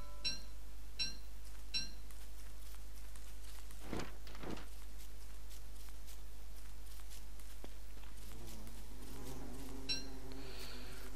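Bees buzzing around a beehive in the survival video game Don't Starve, a faint, steady insect drone with brief clicks and soft footsteps, no talk.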